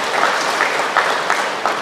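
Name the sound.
congregation applause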